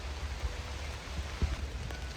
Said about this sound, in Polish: Specjalnie dzisiejszego vloga zmontuję tak, żebyś mógł posłuchać tego cudownego deszczu.